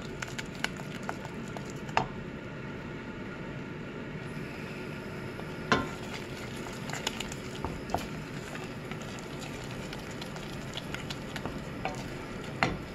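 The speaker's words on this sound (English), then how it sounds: "Oh, that's done. Let's stop frying." Steady sizzling of Chinese curry frying in a pan, with occasional clicks and scrapes of stirring, continuous and close.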